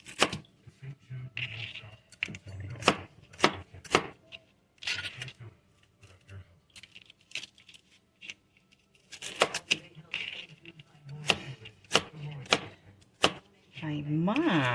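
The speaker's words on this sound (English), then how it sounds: "let's cut up our potatoes into bite-sized pieces" A knife chops potatoes into bite-sized pieces on a cutting board in a home kitchen, making crisp, close knocks that come in quick runs and scattered single strokes while people talk at intervals.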